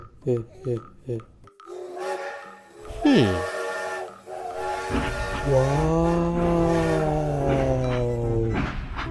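A few short puffing chugs, then a long, wavering harmonic whistle that swells and holds; it sounds like a voice imitating a train.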